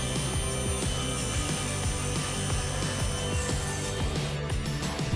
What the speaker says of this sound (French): Poussez la latte systématiquement le long de la lame de scie